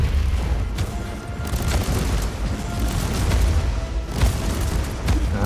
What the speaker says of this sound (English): That's it, the turret's got you